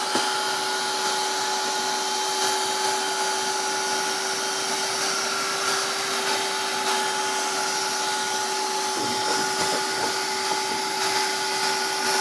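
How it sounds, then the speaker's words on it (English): A vacuum cleaner runs steadily and loudly without pause, with a constant whine over broadband suction noise as it picks up gray tempera paint. "Here we have Mike vacuuming the tempera paint."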